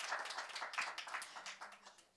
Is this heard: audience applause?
yes